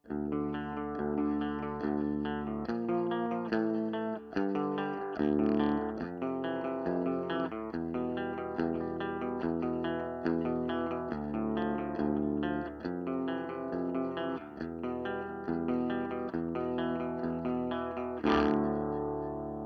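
An electric guitar on a clean tone through a TC Electronic Dual Wreck preamp plays sustained chords and picked notes, moderately loud and continuous with a slight shimmer of effects, alone without talk.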